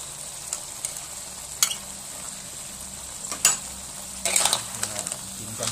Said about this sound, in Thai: เครื่องมะม่านั่งเครื่องต่อผัดใส่กะทิผัดใส่กะทิจ้ะ